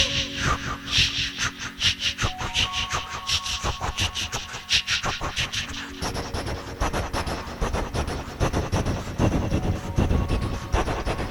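A comedian's voice imitates a train pulling away, with a rhythmic chugging and hissing pulse that speeds up and grows busier, performed loudly and close to the microphone.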